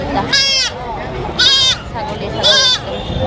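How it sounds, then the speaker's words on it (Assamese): Goats bleat three times in a slow, evenly spaced sequence, loud and close, with a quieter low rumble in between. "এইফালে একদম পুৰা ছাগলী এইফালে দুটা মোৰ ছাগলী"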